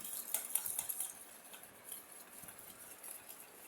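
A spoon stirs a sugar paste in a bowl, giving faint, irregular scraping and clinking strokes at close range with no talk.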